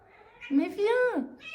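A cat lets out a single drawn-out, rising and falling meow close by, while a person speaks briefly just before it.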